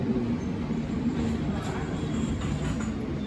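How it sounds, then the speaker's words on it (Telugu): A train rumbles steadily in alongside platform three amid a continuous din of crowded station noise and chatter, with no clear pause. "ట్రైన్ వచ్చేసింది ప్లాట్ఫామ్ మీదకి"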